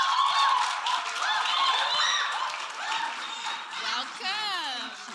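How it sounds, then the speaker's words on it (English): Audience applause at a career day event greets a woman coming to the podium, steady clapping throughout with cheering and voices mixed in and a rising whoop near the end. "give her a resounding clap offering as she comes to the podium"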